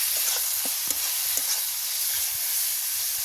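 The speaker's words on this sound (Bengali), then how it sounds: "এর মধ্যে একটু লঙ্কা গুঁড়ো দিয়ে দেবো দিয়ে মশলাটা ভালো করে কষাবো" Chili powder and spices fry in a pan with chopped mango, giving a steady close sizzle broken by repeated scraping strokes of stirring, with no voices.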